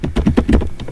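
Rapid, irregular keystrokes on a computer keyboard, a close and steady run of clicks with a few heavier strikes, and no voice over them.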